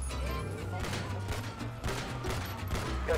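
Gunshots in the video game GTA 5 roleplay, a rapid fusillade of shots over a steady low game drone, with talk mixed in.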